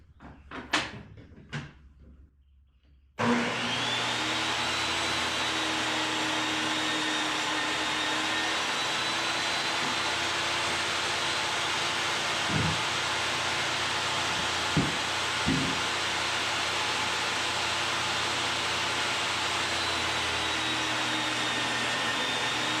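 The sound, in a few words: cutting plexiglass to size with a saw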